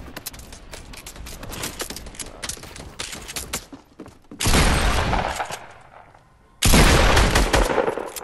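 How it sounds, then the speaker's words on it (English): Gunfire in an online shooter video game, with rapid bursts of loud automatic shots crackling at the start, then two heavy, sustained volleys of close blasts separated by a short lull. "People are shooting from the other side."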